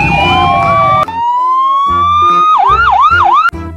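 A toy police motorcycle on patrol sounds a loud, close electronic siren, first a long rising wail, then a rapid warbling yelp, with brief clicks between the sections.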